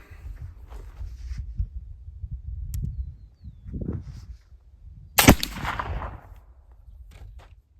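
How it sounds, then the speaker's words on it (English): A single sharp black powder gunshot, loaded with alder buckthorn powder milled with lead media, cracks loudly partway through, followed by a short rumbling tail; quiet outdoor background before it. "here is shot number 1 with our alder buckthorn powder milled with lead media"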